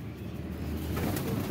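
Pigeons coo in a loft where Baba Laqu keeps his fancy flying birds, a low steady murmur of soft calls running continuously at close range with no talk over it.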